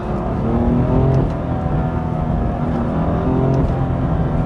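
BMW M2 with its S55 engine revving, a loud, steady metallic engine roar with slight rises and dips in pitch and a hint of wastegate chatter, heard close and continuous with no talking.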